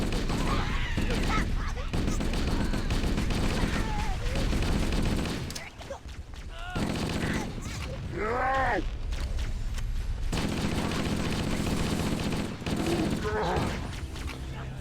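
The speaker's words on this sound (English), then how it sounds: "you start hearing that infamous sound of the fucking assault rifle" Assault rifle gunfire in the video game Halo: Combat Evolved, heard as loud, sustained bursts of automatic fire mixed with explosions and game effects, with voices of characters talking over parts of it.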